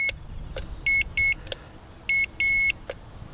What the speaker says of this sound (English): I'm going to hit this button again to stop the beeping